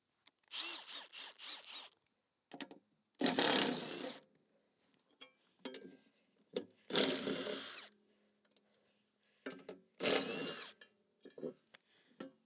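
Rusty bolts on a lawn mower deck are being unscrewed with a tool, giving about five separate bursts of rapid ratcheting, close and fairly loud, with quiet clicks and handling noises between them.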